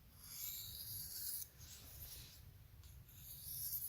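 A Spyderco Parata knife blade drawn across a sharpening stone in a few quiet, close rasping passes, soft gritty strokes with brief pauses between them and no talking.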